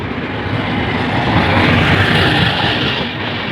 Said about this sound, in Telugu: ట్రైన్ వచ్చేసింది ఫ్రెండ్స్.